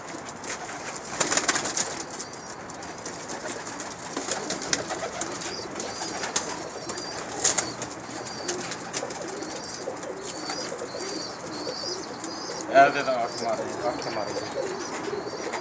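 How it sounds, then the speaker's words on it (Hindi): Pigeons coo softly amid a busy outdoor background, with scattered chirps, rustles and a brief wing flutter. "माल कबूतर"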